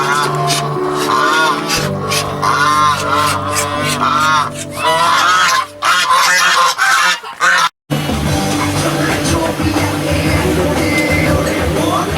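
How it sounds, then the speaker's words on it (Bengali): Domestic geese on a farmhouse honk repeatedly and loudly, a noisy overlapping chorus of harsh calls that continues almost without pause. "ওদিকে রাজহাঁস,"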